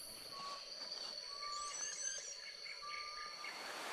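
A frog calls repeatedly during rain in Uganda, its short tonal croaks and chirps repeating over a steady hiss of rainfall and insect-like background noise.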